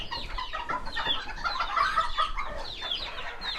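A brooding Serama hen gives soft, close, grumbling clucks in a quick, uneven series, fairly quiet and alone with no talk over it.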